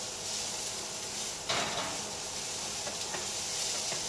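Browning butternut squash is tossed in a hot pan, a soft steady sizzle and hiss with a brief louder burst of scraping and frying as the pieces are turned, heard close up without speech.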